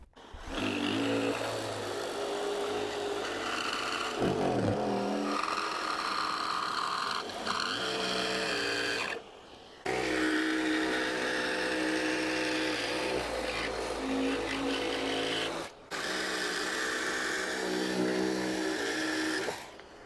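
A Festool Carvex jigsaw fitted with a narrow coping blade cuts curves in wood, a loud close buzzing whine that shifts pitch through turns and stops briefly twice.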